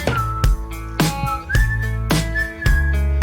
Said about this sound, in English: Why are we whistling on this sad-ass song?